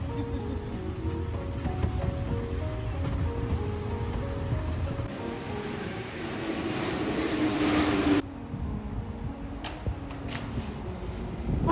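Ride on a Paris metro train, a steady rumble of wheels and carriage noise with a faint rising whine, an abrupt change near the end as the sound shifts, with no talk.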